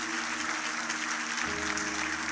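A church congregation breaks into steady, sustained applause during a Portuguese-language sermon, a dense wash of clapping throughout with no talk over it.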